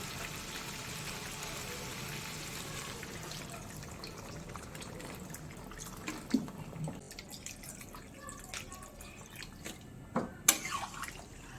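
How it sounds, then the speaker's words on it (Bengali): Water poured into a pot of chicken curry with potatoes, a quiet steady rush of liquid that thins into scattered drips and small splashes toward the end. "এবার পরিমাণ মতো জল দিয়ে নেব।"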